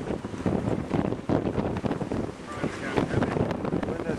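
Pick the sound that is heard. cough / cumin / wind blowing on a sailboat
wind blowing on a sailboat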